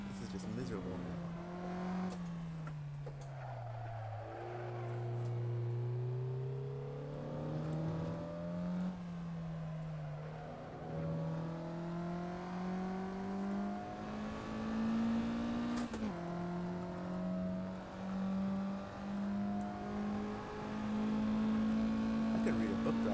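A race car engine droning down a long straight in Assetto Corsa, the pitch climbing steadily through several upshifts, loud and sustained, with someone talking over it at times.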